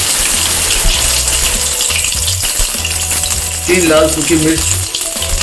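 Cumin seeds and garlic cloves frying in hot oil for a desi country chicken curry, a steady close sizzle running throughout with a spoken voice over it.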